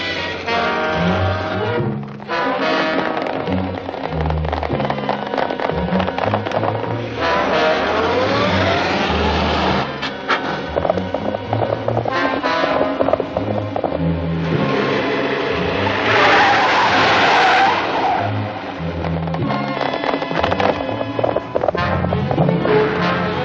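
A car engine roars steadily and loudly as the vehicle drives off, with a rising skid of tires partway through and a dense, continuous motor rumble throughout.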